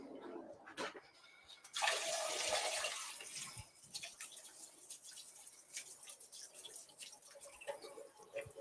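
Gritty radishes being washed under running tap water in a kitchen, a steady hiss of flowing water surging near the start and then continuing with scattered drips and splashes.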